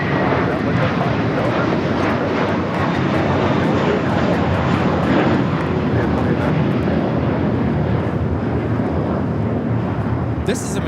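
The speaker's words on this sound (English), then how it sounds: "This is American Airlines 2890 taking off to Dallas Fort Worth on the A321." An American Airlines Airbus A321 takes off at Los Angeles International Airport, producing a loud, steady jet engine roar that fills the whole stretch, heard from nearby.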